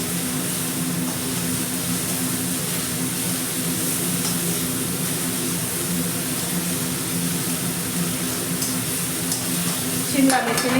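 Vegetables for a veg momo filling are being stir-fried in a pan, giving a steady, loud sizzle with the scrape of stirring throughout and a sharper clatter near the end.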